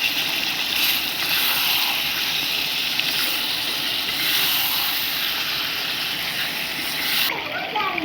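Meat frying with onions in a pan gives a continuous close hiss and crackle of sizzling fat, steady throughout, while a person talks over it.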